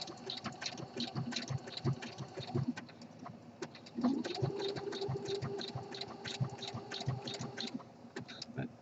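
A home sewing machine top stitching a boxer brief waistband, a fast, steady mechanical clatter of needle strokes, close and moderately quiet, with a brief change in pace midway.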